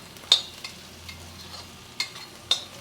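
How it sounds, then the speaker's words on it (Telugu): Onions cooking in a pan for Andhra egg porutu give a faint sizzle, with a few sharp spoon scrapes and taps against the pan spaced out over a quiet background. "ఇదిగోండి ఉల్లిపాయ వేగింది, దగ్గరికి రండి."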